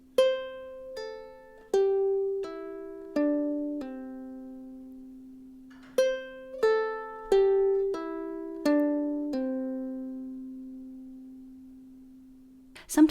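Guitar pull-offs are played on single strings, forming two clean runs of plucked notes, each note sharply attacked and then ringing and decaying, with no talking.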